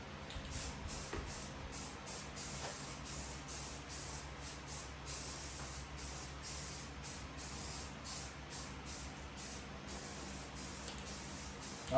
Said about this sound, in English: let's give this a quick coat of paint